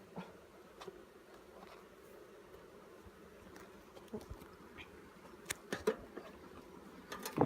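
Honey bees buzz steadily at a hive in a low, droning swarm, with occasional louder passes close by.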